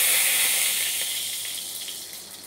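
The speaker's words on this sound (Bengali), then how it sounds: "এখন আমি কড়াইতে অল্প পরিমাণ সয়াবিন তেল দিয়ে দিচ্ছি" Soybean oil hitting a hot kadai while mango pickle is being made, giving a steady close sizzle and hiss that slowly fades over a couple of seconds, with no talking.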